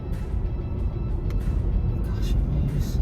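A Nissan Ariya electric SUV on a track, its low, steady rolling rumble of tyres and road noise droning continuously with little engine tone, while someone talks over it.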